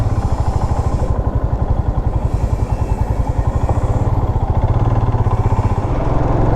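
A motorcycle engine thrumming steadily at close range, a low rapid pulsing drone that holds even throughout with no voices.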